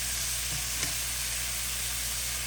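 Asparagus and broccolini sautéing in butter in a pan give a steady, close sizzle with a faint utensil scrape partway through, no voices over it.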